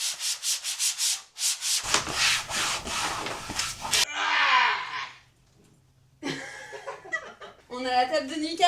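Adhesive sticker film being smoothed onto a piece of bedroom furniture with a flat tool, giving repeated close rubbing and scraping strokes, with a pause and short bursts of laughter and talk later on.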